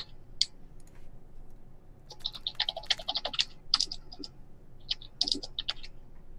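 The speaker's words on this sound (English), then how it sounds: "We can hear you typing, buddy." Bursts of rapid computer keyboard typing heard over an online chess stream, crisp clicky keystrokes in uneven clusters separated by short pauses, fairly close and moderately quiet.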